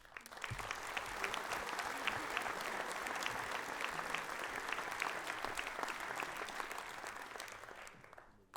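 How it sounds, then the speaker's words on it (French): Sustained applause from a seated audience at a town hall New Year's greetings ceremony in Mennecy, a dense, even wash of many hands clapping that holds steady for several seconds before tapering off at the end. "j'aurais souhaité que vous les applaudissiez"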